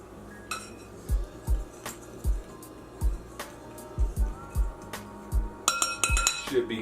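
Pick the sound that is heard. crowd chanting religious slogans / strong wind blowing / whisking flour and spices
whisking flour and spices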